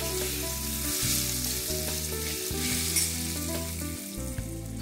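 Cumin seeds sizzle in hot oil in a pan while a sweet amla pickle is made, giving a steady close crackle and hiss with a low rumbling hum beneath and no talk.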